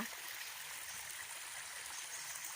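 Soft, steady rushing of a forest stream flowing over rocks in the rainy season, faint and continuous with no voices.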